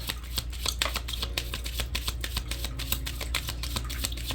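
Tarot cards are shuffled in quick, crisp riffles, a rapid papery flutter with sharp snaps, close by and with no talking.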